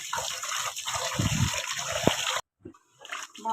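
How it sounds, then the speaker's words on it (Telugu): Rice being washed in water in a bowl for mutton biryani, close splashing and gushing that runs steadily for a couple of seconds, then stops, leaving only brief faint sloshes. "రైస్ను చెరిగి చాటలో తీసుకొని వాష్ చేసుకోవాలి బాగా"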